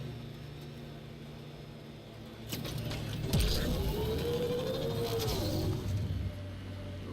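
Vehicle driving in Mass Effect Andromeda, a steady engine hum with a clunk midway, then a rising whine as it speeds up before settling, with no one speaking.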